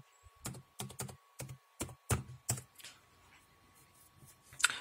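Someone types a password on a computer keyboard, about ten distinct key presses in a fairly even rhythm, close and clear in a quiet room, ending with a firmer keystroke.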